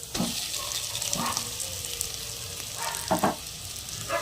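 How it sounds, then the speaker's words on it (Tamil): Potato masala for poori being stirred in a pan, a steady sizzle with a few sharp scraping strokes of the spoon against the pan, close and alone. "இப்போ நல்லா கலந்து விட்டுடலாம்"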